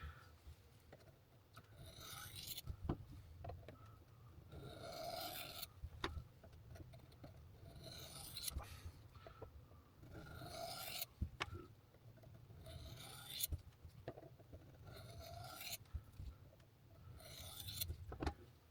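A knife edge stroked very lightly along a Sharpal 1200 diamond sharpening rod, producing soft, faint rasping swipes repeating at a slow, even rhythm with occasional small ticks, close and quiet.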